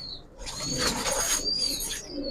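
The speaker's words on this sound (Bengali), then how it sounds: "ভাই হাতে আরেকটা কবুতর আছে, যারা অনেক উড়াইতে চান, একটা নর" A male Giribaz pigeon held in the hand beats its wings in a close, rustling burst of flapping that swells and continues for a couple of seconds.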